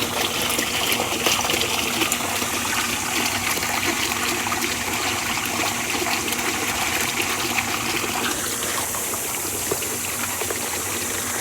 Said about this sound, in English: this is Shelly Jr. going into the pond